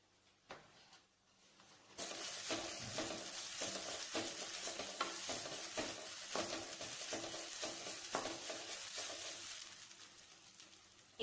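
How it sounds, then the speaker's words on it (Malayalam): Grated coconut fries in a pan toward light brown after a quiet start and a couple of knocks, then a steady dry sizzle with frequent scraping stir strokes, close and fairly soft, easing slightly near the end. "ഇനി ഇത് നമുക്ക് നന്നായിട്ടൊന്ന് ഒരു ലൈറ്റ് ബ്രൗൺ ഷെയ്ഡ് ആവണ വരെ ഒന്ന് ഫ്രൈ ചെയ്യണം"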